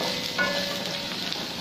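Drained onions frying in hot cooking oil for fish ball mixed vegetables, a steady close crackling sizzle with no voices.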